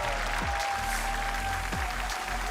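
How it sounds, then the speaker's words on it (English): A large esports arena crowd applauds steadily after a Counter-Strike match, a dense continuous roar of clapping and cheering heard from within the venue, loud and unbroken throughout, with no speech on top. "give it up, Astralis and Hooksy!"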